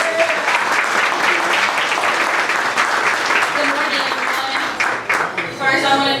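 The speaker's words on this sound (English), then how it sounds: "Let's give a round of applause" An audience at a LULAC chorizo and menudo breakfast in Dallas breaks into a full, steady round of applause lasting several seconds, with some voices and cheers mixed into the dense clapping.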